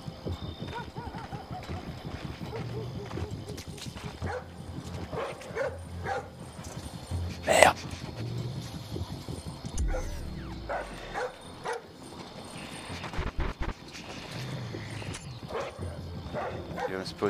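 A dog barks in the stealth video game Splinter Cell Blacklist, with scattered barks and yips under game ambience and someone talking in French.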